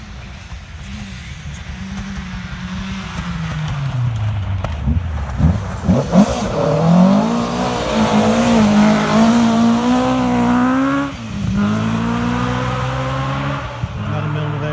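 Rally cars with Ford BDA engines roar past on a forest special stage, engines revving and rising in pitch as they accelerate through a bend, loud and close.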